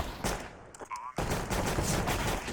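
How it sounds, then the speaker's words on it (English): Rapid bursts of gunfire in a CS:GO match, dense and loud, fill most of the stretch with a brief near-silent gap early on, while a commentator talks over the action. "Beautiful headshots coming in for W0xic."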